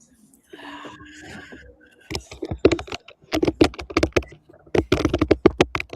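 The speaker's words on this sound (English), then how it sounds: "Who's on the keyboard? Who is on the keyboard?" Fast typing on a computer keyboard, with dense runs of crisp key clicks arriving in bursts and brief pauses. Faint hiss and murmur come first, then the close, loud keystrokes take over.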